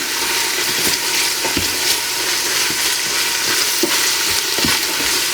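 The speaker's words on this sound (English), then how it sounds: "And we'll stir that in with that bacon" Diced carrot stirred into bacon frying in an Instant Pot for split pea soup: a loud, steady sizzle with scattered scraping knocks from the spoon, close up and without talk.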